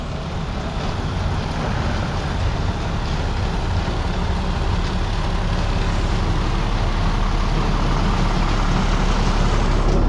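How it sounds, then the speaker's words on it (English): A pickup truck drives out with a steady, loud engine rumble and broadband road noise that holds evenly throughout, with no voices over it. "I'm gonna pull my truck out quick so that way I can put my other truck in."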